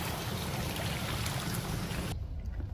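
Sea waves washing onto a Bodrum beach by a hotel, a steady broadband surf roar with some wind, loud and continuous before cutting down sharply near the end.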